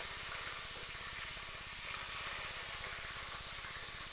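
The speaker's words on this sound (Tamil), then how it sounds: "வெந்தயம் நல்லா பொரிஞ்சிருச்சு, கலரும் சேஞ்ச் ஆயிடுச்சு." Fenugreek seeds fry in hot oil for a crab gravy. The sizzle is soft and steady throughout, a faint continuous hiss with no talk.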